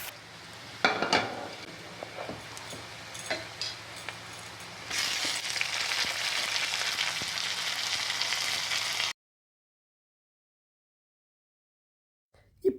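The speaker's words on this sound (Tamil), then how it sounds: "இப்போ நான் எல்லா காயையும் போட்டுட்டு இந்த உருளைக்கிழங்கெல்லாம் நல்லா கோல்டன் ப்ரௌனாக வர வரைக்கும் வதக்கிட்டு" Potatoes and vegetables being sautéed in a pan for sabudana upma, a steady close sizzle with scattered scraping and clinking of a utensil against the pan, cutting off abruptly to silence near the end.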